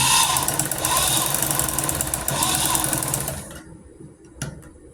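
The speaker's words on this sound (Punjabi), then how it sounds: "ਹੁਣ ਤੁਸੀਂ ਇਸ ਤਰ੍ਹਾਂ ਦੀ ਸਲਾਈ ਲਗਾ ਲੈਣੀ ਚਾਰੋਂ ਸਾਈਡ ਤੇ ਤਾਂ ਜੋ ਸਾਡਾ ਕਾਲਰ ਪੱਕਾ ਹੋ ਜਾਵੇ" A sewing machine stitches around the edge of a kurti collar in a fast, continuous mechanical chatter, loud and close for several seconds before stopping, followed by a few quiet handling clicks.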